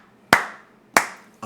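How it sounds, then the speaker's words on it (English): A person claps their hands twice for the camera, two sharp, close claps about two-thirds of a second apart, each ringing off briefly in a quiet room. "I realize how that might come off clapping to the camera"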